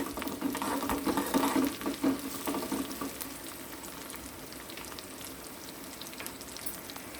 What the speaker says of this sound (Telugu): ఈ పోపుకి వెల్లుల్లిపాయలు చక్కగా వేగాలి